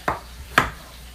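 Two crisp knife chops through tomatoes on a cutting board for turkey chili, about half a second apart, close and clear in a quiet room.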